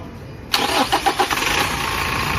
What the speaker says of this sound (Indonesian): Terlebih dahulu kita akan hidupkan mesin mobil dulu teman-teman